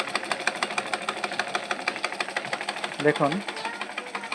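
A Singer sewing machine runs with a fast, even mechanical chatter of regular pulses, close and continuous, while a voice briefly speaks over it near the end.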